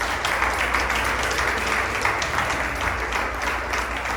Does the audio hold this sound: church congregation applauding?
yes